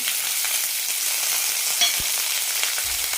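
Onions and curry leaves sautéing in coconut oil with popped mustard seeds in a pan, a steady close, bright sizzle running throughout with a soft stirring scrape near the end.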